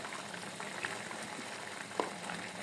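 Curry broth with added water simmers in a pan, giving a faint, steady bubbling hiss with a few small pops across a short stretch.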